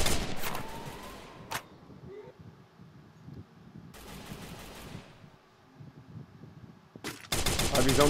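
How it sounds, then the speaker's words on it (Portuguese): Rapid bursts of automatic gunfire crackle during a Free Fire battle royale match, with a couple of sharp volleys at the start, a quieter stretch of distant shots, and a loud sustained burst at the end. "Rajada aqui. Tá, o Ale também tá tocando tiro aqui"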